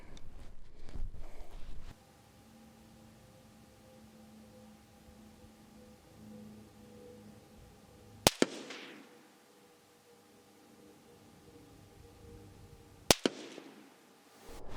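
Two sharp, loud AR-15 rifle shots in 5.56 NATO ring out at an outdoor 100-yard range, about five seconds apart. Each crack is followed by a brief echo, with near silence between them.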